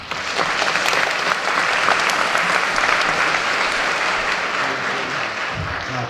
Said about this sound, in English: Give our students a round of applause